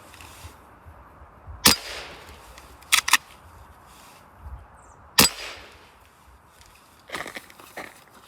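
A Hatsan Vectis air rifle with a Huma regulator mod being cocked outdoors: sharp metallic clacks, one at about 1.7 s, a quick double click near 3 s and another sharp snap at 5.2 s, plus softer handling rattles, over quiet outdoor ambience.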